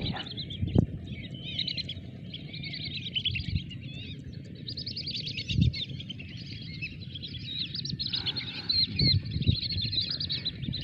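Wandering whistling ducks calling in an outdoor setting, a steady stream of high chirping whistles running continuously with a few low thumps underneath.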